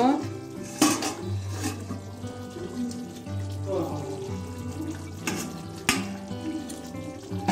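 A lid lifted off a pot of Kashmiri aloo dum simmering on low gas, with metallic clinks and knocks over a quiet hum and some kitchen clatter, close and moderately loud.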